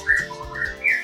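Magpie-robin (murai) songbirds at a breeder's place calling and answering one another, three clear whistled phrases spaced across a brief moment, moderately close with no talk over them.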